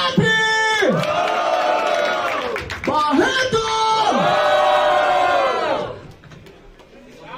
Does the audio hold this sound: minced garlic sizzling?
no